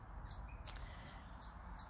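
A mother robin near a nest over a back porch light gives repeated sharp calls, about five of them in an even rhythm, faint and distant over a steady background hum.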